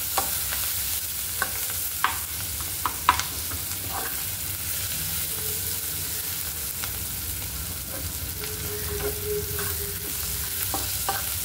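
Ridge gourd chutney with tomato, onion and salt sizzling steadily in a pan, with scattered scraping clicks of a spoon stirring through the constant frying hiss.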